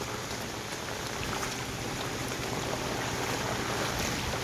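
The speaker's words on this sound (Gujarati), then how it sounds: "અત્યારે છે ને વરસાદી માહોલ એટલો જામ્યો છે ને કે 3 દિવસથી રોકાવાનું નામ નીકળે છે" Steady heavy monsoon rain over waterlogged farm fields, with a dense, continuous hiss and rushing water, loud and unbroken throughout.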